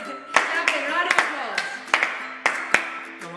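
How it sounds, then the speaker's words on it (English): A handful of sharp, close claps land one after another at an uneven pace, each distinct and loud, while a voice speaks over them. "Round of applause."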